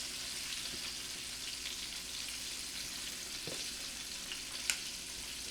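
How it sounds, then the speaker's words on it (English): Heavy cream being stirred into chicken gravy in a pan, a faint low simmering hiss with a few soft scrapes and a light clink near the end, no speech. "Then you're gonna add the heavy cream and you're gonna stir that up."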